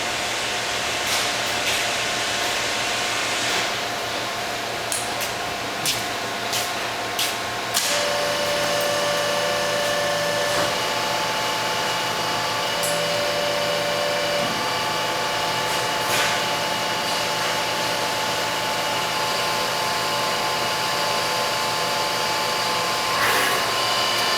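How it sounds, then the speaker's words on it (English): A Wabash 30-ton hydraulic press runs with a continuous close hydraulic whine and motor hum while building tonnage. Small clicks and a shift in pitch come partway through, and no one speaks. "Press goes up to its close point, tonnage builds up to the set point of the tonnage, and shuts off"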